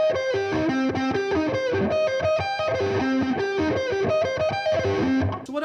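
A distorted electric guitar plays a fast, repeating arpeggio pattern, notes picked in steady succession, loud and continuous.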